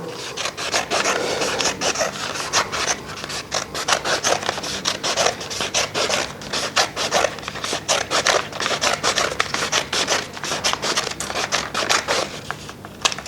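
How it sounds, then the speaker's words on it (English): Scissors snip steadily through a paper Mobius band, cutting down its middle, giving a continuous close, papery rasp with many small cutting strokes. "So I'm just going to cut down the middle here."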